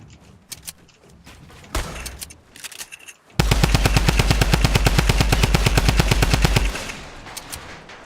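Gunfire in Fortnite: a few scattered shots and clicks, then a long rapid burst of loud automatic fire with an even, fast rhythm that stops abruptly.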